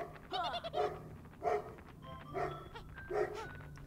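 A dog barks outdoors in short repeated bursts, harsh and somewhat goat-like in tone, at moderate distance with quiet gaps between.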